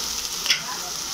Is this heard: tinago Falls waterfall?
no